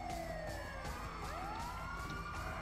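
A wailing emergency siren from a Grand Theft Auto 5 ambulance, rising and falling tones sweeping over engine and traffic rumble, loud and close throughout the short stretch.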